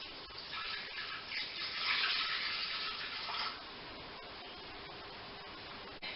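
Water pours into the bowl of a ThermoCook TC PRO M 2.0 kitchen machine, a steady splashing flow that swells briefly in the middle and then settles to a quieter hiss, with no voices.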